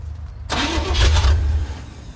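A classic Chevy truck engine with cutoff exhaust manifolds and no headers cranks and fires up abruptly, catching with a deep, loud open-exhaust rumble that surges briefly and settles toward an idle.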